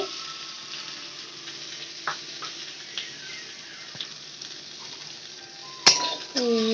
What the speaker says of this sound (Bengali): গোলমরিচের সাথে আলুটা ভালো করে নাড়িয়ে নিতে হবে